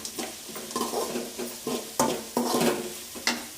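Onions with salt fry in a pan under a soft sizzle, with repeated rhythmic scraping strokes of a spoon stirring them, close and moderately loud.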